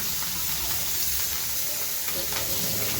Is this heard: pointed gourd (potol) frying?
yes